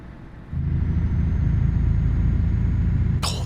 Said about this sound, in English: Oh, the engine sounds good.